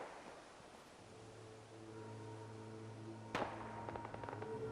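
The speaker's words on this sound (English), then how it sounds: "we hear the gunfire." Distant gunfire in the Fallout 4 video game, a single sharp crack around the middle followed by faint scattered pops over a steady droning game ambience and low tones.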